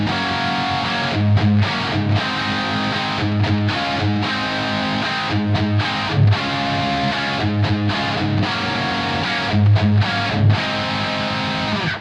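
Heavily distorted electric guitar strums sustained chords in place of synth parts for a rock song, loud and close, chugging in a steady rock rhythm with brief rhythmic breaks and no voices.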